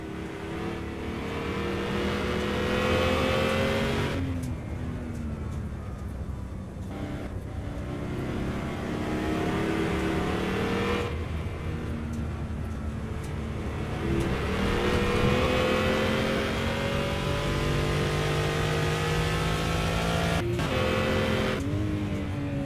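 BMW M1 race cars in the Simraceway racing game scream down the start-finish straight, engines revving hard with rising pitch through gear shifts, loud and continuous with brief lifts between pulls and no talking over it.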